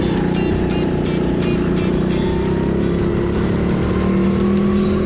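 Go-karts race around an indoor TeamSport track during practice, a continuous loud buzzing engine drone that shifts in pitch through the lap, heard close from the kart.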